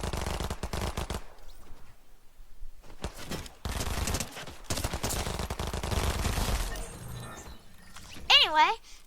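Bursts of weapon fire in Fortnite crackle in quick clusters separated by short silences, close and fairly loud, ending with a rising electronic whine.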